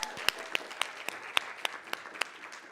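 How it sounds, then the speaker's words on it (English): Sparse hand clapping from a small audience at a personal-growth event in Las Vegas, about a dozen distinct claps in an uneven rhythm, moderately close, with no voices over it. "Yay, give her a hand clap."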